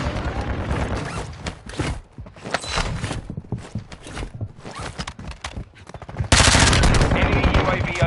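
Rapid gunfire bursts from a Warzone video game firefight, loud and dense, with a heavier sustained volley near the end, mixed with other game effects.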